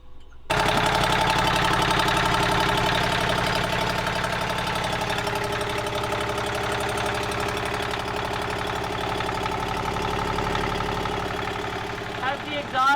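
Sailboat's auxiliary engine cranks and catches, then idles steadily and loudly for several seconds with a rough, knocking, vibrating rhythm close by.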